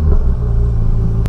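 A Porsche 911 GT3 sports car engine drones with a steady low harmonic growl on the Bilster Berg circuit, loud and close, a brief burst of noise near the end.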